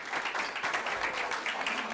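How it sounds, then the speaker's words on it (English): An audience at a community opioid crisis informational meeting applauds the panelists, steady scattered clapping filling the room for a couple of seconds. "So a round of applause for our panelists"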